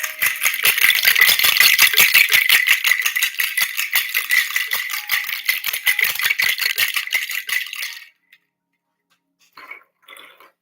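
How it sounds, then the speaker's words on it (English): Tarot card decks being shuffled and cleared: a loud, rapid rattling clatter of cards for about eight seconds, close up, followed by a short quieter flutter after a pause. "I will be clearing decks, so there will be a loud sound."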